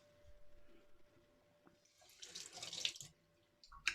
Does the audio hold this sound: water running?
yes